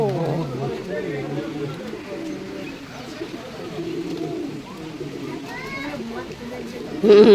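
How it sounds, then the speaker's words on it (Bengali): Several pigeons coo in low, throaty, repeated calls close by, with other birds faintly chirping and a burst of noise at the end. "আর এটা তো পায়রা বকবকুম করছে, সব বকবকুম।"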